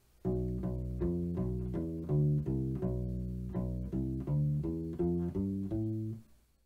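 Two measures of a Locrian groove on a U-bass, a run of around fifteen plucked low notes with a warm, rubbery tone, steady and close, played alone with no speech.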